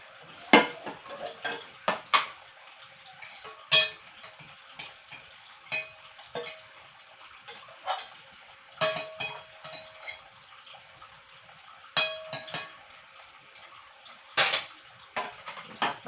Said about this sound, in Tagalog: Ilagay natin ito sa lalagyanan na may takip.